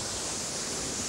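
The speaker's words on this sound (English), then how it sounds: "Now watch the bow of this go right into the water." An ocean racing sailing yacht from the 1989–90 Whitbread Round the World Race drives its bow into ocean waves, a loud continuous roar of rushing water and spray filling the whole moment with no voices.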